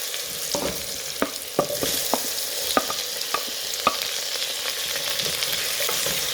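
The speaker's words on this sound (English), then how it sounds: "I'm going to add tomatoes to this and let them cook as well." Tomatoes and softened vegetables fry in a pan with a steady, close sizzle, punctuated by occasional sharp pops and stirring clicks, with no talking.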